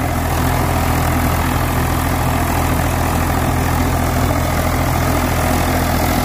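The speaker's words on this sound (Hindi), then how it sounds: "वाह की भाई ट्रैक्टर काम बहुत बढ़िया कर रहा भाई आयशर 485" An Eicher 485 tractor works a hard, dry field with a rotavator, its engine a steady, loud, close diesel drone with a broad rumble that never lets up. No one speaks over it.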